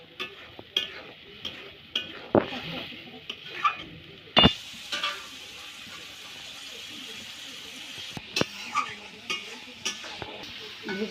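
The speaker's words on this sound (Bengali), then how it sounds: "ভেজে রাখা আলুগুলো কষিয়ে দিল।" Fried potatoes being stirred into a spice paste in a pan for rohu fish curry, with a soft sizzle under repeated scrapes and knocks of a spoon, irregular and fairly close.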